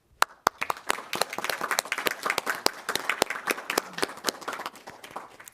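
City council meeting audience applauds the police officer of the year: a sparse crowd of individual claps, distinct and crisp, starting with a couple of loud isolated claps before building into steady moderate clapping.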